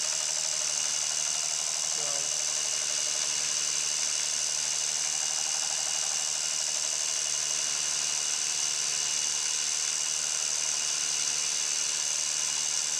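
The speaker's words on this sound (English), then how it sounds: "I'm going to start taking a cut now, and you'll see how it's going" A small Petite Lime hand shaper's motor runs steadily while taking a 0.350 depth cut, giving a constant loud mechanical whine and hum with a faint knock near the start and no talking.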